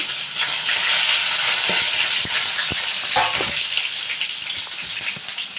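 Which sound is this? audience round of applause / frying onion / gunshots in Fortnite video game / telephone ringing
frying onion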